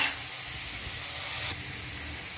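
Vegetables for a restaurant-style veg soup sautéing in a pan over a high gas flame, a steady close hiss and sizzle that eases slightly partway through, with no voices.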